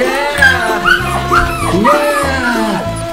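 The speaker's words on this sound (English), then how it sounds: "There's so many dogs here." Many dogs nearby give off a busy, loud mix of whimpers, yips and short barks, overlapping in quick bursts throughout.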